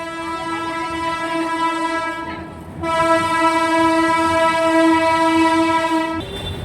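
A train horn blares loudly and steadily at close range beside the railway station in Vapi, India, holding its chord for several seconds with a brief dip partway through.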